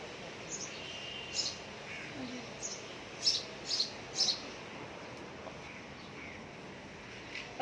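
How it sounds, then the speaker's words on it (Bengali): House sparrows chirp in short bright bursts, some clustered and some single, moderately close over a faint steady background hum. "ওদিকে দেখো পাখি চড়াই পাখিগুলো"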